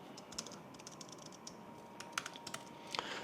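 Typing on a computer keyboard while writing JavaScript code, a quiet steady run of soft key clicks with a few sharper taps, close by and with no talk.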